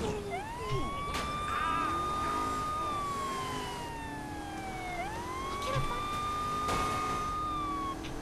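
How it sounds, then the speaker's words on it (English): Police siren wailing in the Saints Row IV video game, a long rising and falling tone that cycles twice over steady game background noise, with a few brief thumps and no talk. "I was hoping of her way it would have a slightly different siren."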